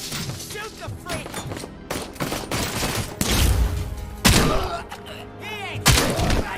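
Gunfire in the video game Robocop Rogue City, rapid bursts of shots and heavy thuds arriving in waves, loud and close, mixed with shouting voices.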